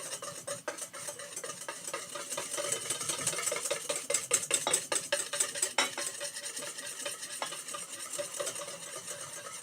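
Butter being whisked into egg yolks for hollandaise sauce, a steady busy stirring and scraping with rapid clicks of a whisk against the bowl, close and continuous with no talk.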